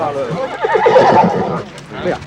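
A horse neighs and whinnies at close range, with faint hoof clip-clop and a voice talking over it; the horse is an aging racecourse champion stallion, still spirited.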